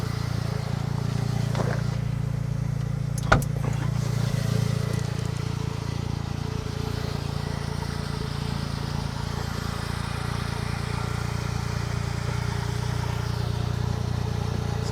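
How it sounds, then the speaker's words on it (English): Smart Roadster's 700cc turbocharged mid-mounted engine idling with a steady low drone, close and constant, broken once by a sharp click. "So there's the little 700cc turbocharged engine."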